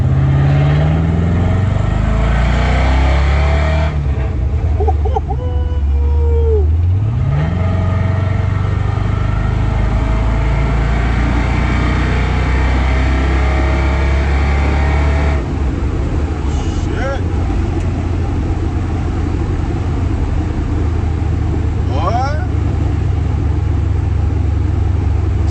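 A junkyard-swapped LS engine, not a stock 5.3, rumbles loud and steady inside a Box Chevy Caprice, revving with a low drone that holds throughout, and the speaker talks over it.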